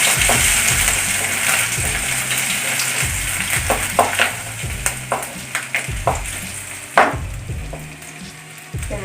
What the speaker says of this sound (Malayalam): ഇഞ്ചി എടുത്ത് മൊരിയണം കേട്ടോ